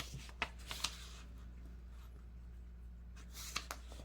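Sheets of paper folded in half for journal signatures rustle and crease in soft, brief bursts at the start and again near the end, quiet and close, separated by near silence.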